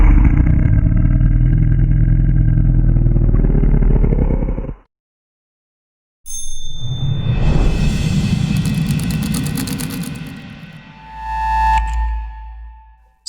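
A deep, heavily processed monster roar built from a cow's moo sounds loud and rumbling. It stops abruptly, and after a short silence a second, rougher, growling roar swells and then fades, ending in a low rumble.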